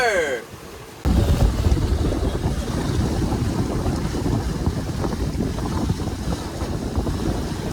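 Wind gust buffeting a 9-metre sailboat in the Bahamas, a loud blustery roar of wind across the microphone with rushing water, building suddenly after a brief quieter moment and staying strong throughout.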